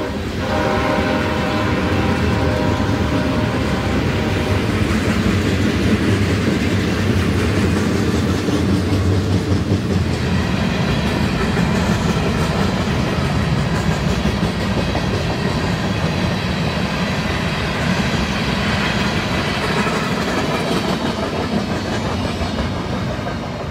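Trains at the station in Salamanca, Mexico: a loud, continuous rumble of rail cars rolling past with clickety-clack wheel noise and horn tones, close and sustained with no speech.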